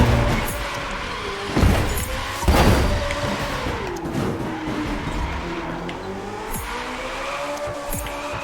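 A McLaren 12C drifts in the racing game The Crew 2, its engine droning and shifting pitch while bursts of tire squeal cut in, loud and close.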